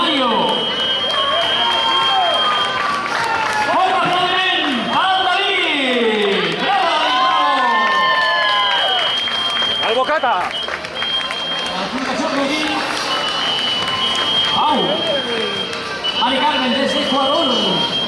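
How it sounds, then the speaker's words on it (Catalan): Spectators at the Cursa Poblenou 2019 race finish line keep up continuous clapping and cheering, loud and close, mixed with busy crowd chatter and overlapping voices. "Fort aplaudiment al David!"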